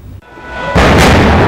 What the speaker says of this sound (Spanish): Es el sonido de una de las explosiones en Bataclan